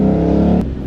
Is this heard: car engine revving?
yes